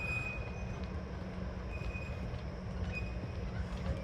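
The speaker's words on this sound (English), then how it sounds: "We'll see how fast the train is." Steam-style train at Walt Disney World's Magic Kingdom rolling along its track, a steady low rumble with faint clicking and occasional metallic squeals from the wheels, heard continuously without voices.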